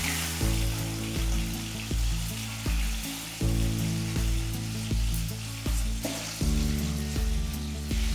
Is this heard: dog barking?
no